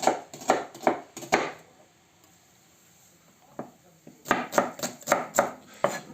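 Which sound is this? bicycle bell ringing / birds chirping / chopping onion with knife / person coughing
chopping onion with knife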